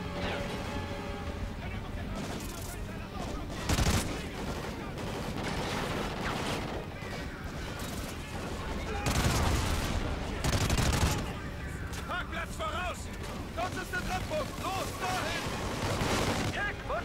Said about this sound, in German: so wohin schießen die?